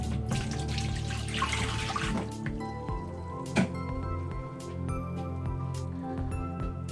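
Tap water runs and splashes for a pre-wash of medium format Kodak Tri-X 400 film from a Yashica C, steady at first, then thinning into drips and light clinks of containers nearby.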